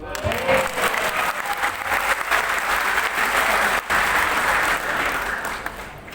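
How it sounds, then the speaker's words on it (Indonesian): A symposium audience gives sustained, dense applause that fills the room at steady loudness, briefly dipping once before tapering off near the end. "Mudah-mudahan tepuk tangannya memang dari hati."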